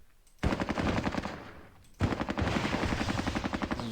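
Sustained automatic machine gun fire in the Vietnam War game Squad Battles Tour of Duty, loud rapid bursts of rattling shots that pause briefly and then resume in a dense, continuous stream.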